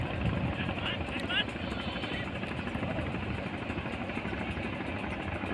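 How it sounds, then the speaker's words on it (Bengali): A trawler boat's engine drones on the Mongla river, a steady low throb heard from the bank with a person talking over it. "ট্রলার একটা যাচ্ছে"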